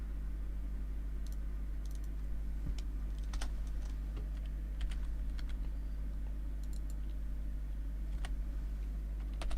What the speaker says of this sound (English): My keyboard is like behind my laptop because I've got it elevated a bit to watch it properly